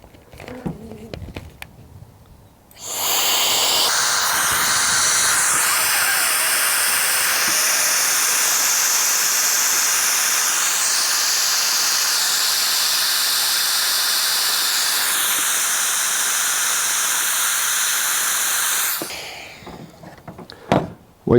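An electric turbo blower pushes air through a nozzle to deflate an air mattress, giving a loud steady whooshing hiss with a whining tone that starts abruptly, holds for about sixteen seconds, then cuts off.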